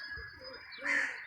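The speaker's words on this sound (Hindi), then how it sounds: "हमारी वीडियो जब बनती है ना, कोई ना कबूतर आ ही जाता है" A pigeon gives a short, soft coo, faint against quiet background noise.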